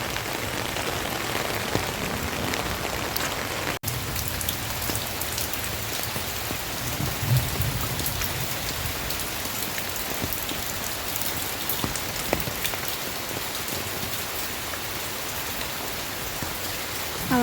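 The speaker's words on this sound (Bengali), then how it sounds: "প্রচণ্ড বৃষ্টি হচ্ছে, প্রায় 3-4 ঘন্টা ধরে" Heavy rain that has fallen for three to four hours lashes down on a small garden beside a pond, a constant dense roar of drops with no talking.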